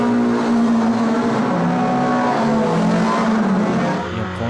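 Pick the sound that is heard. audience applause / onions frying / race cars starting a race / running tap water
race cars starting a race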